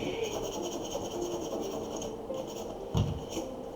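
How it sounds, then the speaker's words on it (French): Sandpaper rubs steadily over a wooden Harley Quinn mallet, a continuous close gritty scraping with a brief thump near the end. "je vais mettre juste un petit coup de ponçage là-dessus"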